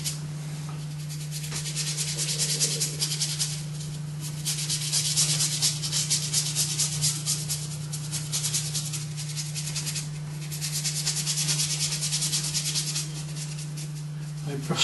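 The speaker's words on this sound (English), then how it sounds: "My brush strokes are tending to go mainly diagonally across the board" Paintbrush laden with acrylic paint dragged in diagonal strokes across a board, a steady soft rubbing and scraping that swells and eases over and over, close and continuous over a low constant hum.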